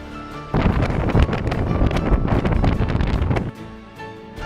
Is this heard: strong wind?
yes